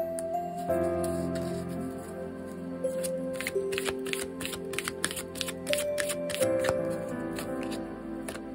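Constellation oracle cards handled during a tarot-style reading, with a quick series of light, crisp flicks and snaps from the deck over soft, sustained background music, fairly close and steady.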